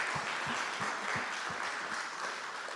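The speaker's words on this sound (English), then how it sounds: "Give a round of applause for our first 2 speakers from Chess in the Schools." Conference attendees at a summit clap for two speakers from a school chess programme, a dense, steady round of applause with soft low thumps scattered through it and no voices over it.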